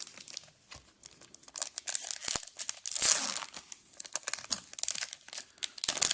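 Foil Magic: The Gathering Forgotten Realms collector booster pack torn open by hand, with close crinkling and crackling foil wrapper and sharp tearing bursts, alone and fairly quiet.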